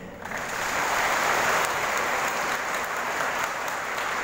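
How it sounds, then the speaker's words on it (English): Sustained, dense applause from a large audience at a commencement ceremony, building quickly and holding steady like rushing rain. "to please give a round of applause to your parents, their family, grandparents, neighbors, and friends who are here to support you"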